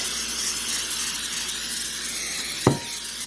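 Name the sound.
cooking spray sprayed into dish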